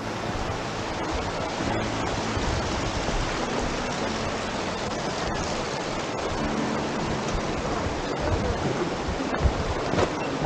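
Steady broadband rush of a mountain river flowing in Montalban, continuous and fairly close, with no talking.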